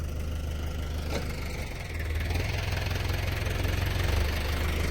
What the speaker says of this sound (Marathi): या वावरात ट्रॅक्टर आलाय